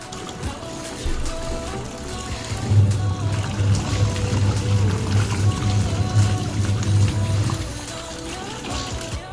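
A Voltas Beko 7.2 kg semi-automatic washing machine churns and sloshes water under a low, steady motor hum, with a rhythmic throbbing in the middle stretch.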